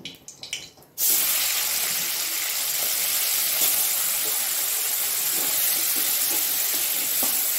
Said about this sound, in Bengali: কড়াই সরষের তেল দিয়েছি, চিংড়ি মাছটা নুন হলুদ মাখিয়ে আমি একটু ভেজে নেব